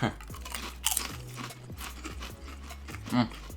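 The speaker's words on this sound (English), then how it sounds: "I'm a big fan of just the Lay's chip itself, the crunch and everything" Close, crisp crunching and chewing of a spicy Lay's potato chip, with repeated bites and mouth noises and a brief voice in between.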